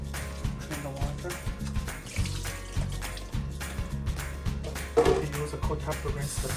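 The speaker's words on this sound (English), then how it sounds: "Drain the water" Water draining from a tofu package, a soft continuous trickle and splatter in a kitchen, faint and close, with small clatters and a louder splash near the end.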